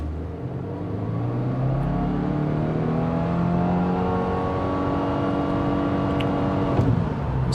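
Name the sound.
2023 Subaru WRX GT CVT accelerating 0 to 60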